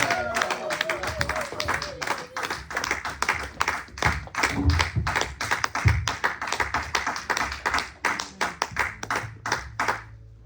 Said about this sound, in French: Nous allons acclamer plus fort pour le roi des rois.